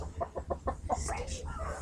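Cockerels clucking close by in a rapid run of short, evenly spaced clucks that turn into a louder, rougher squawk, over a low background rumble.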